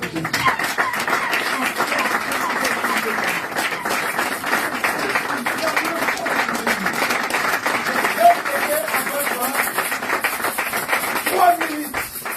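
A church congregation claps and cheers for Jesus during a Sunday children's service, with steady, moderately distant applause that holds evenly throughout, as scattered voices and faint tones sound within it.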